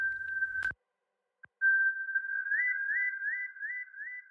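A whistle synth preset from a melodic house sample library plays a steady held tone, then after a short gap a sustained note with repeated upward pitch bends, clean and alone with no voices.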